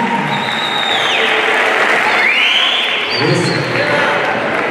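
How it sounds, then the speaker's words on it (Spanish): Applause for an eighth grade class at a school semester-closing ceremony, a steady crowd clapping that fills the whole stretch, with a voice and cheering mixed in over it. "Fuerte el aplauso para el octavo año básico"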